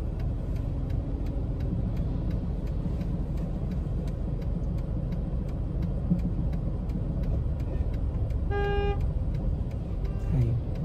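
A car horn gives one short, sharp honk in city traffic near the end, close by and over the steady hum of engines and road noise, with a faint second toot just after.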